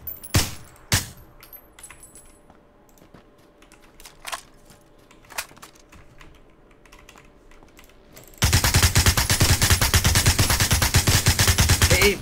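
Gunfire in the PUBG battle royale video game: a few isolated sharp shots ring out over quiet, then a loud, sustained burst of rapid automatic fire runs to the end with no speech.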